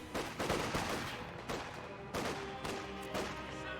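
Gunfire from troops garrisoned in a building in the video game Company of Heroes 2, with repeated sharp volleys and bursts at a steady rhythm, moderately loud, with no talking.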